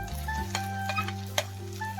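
Pigeon meat curry lands in a hot wok and sizzles steadily up close, with a few light clinks and a low hum underneath.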